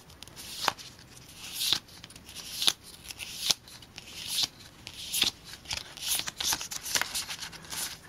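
Girls' Generation K-pop photocards handled as a stack, giving close, crisp papery flicks and slaps that come in irregular bursts over a quiet background.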